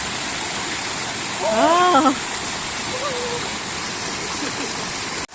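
A small mountain waterfall on a hike through the Chornohora ridge in the Carpathians rushes in a steady, close roar, with a brief voice rising over it once near the start.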